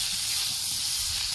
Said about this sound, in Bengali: সব একসাথে এবার আমি ভেজে নেব